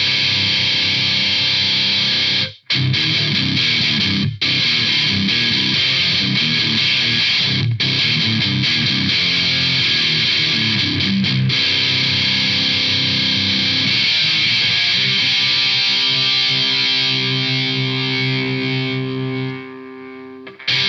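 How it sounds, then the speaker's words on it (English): Electric guitar driven through a Bad Monkey overdrive pedal, giving a hollow, fuzzy distorted tone as dense chords ring continuously with brief cut-outs, then settle into a sustained fading chord. "If you want an example of what a hollow distortion sounds like"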